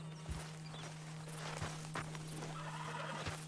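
A horse whinnies amid soft hoof clops in Red Dead Redemption 2, set against a steady electronic hum and faint ambient noise.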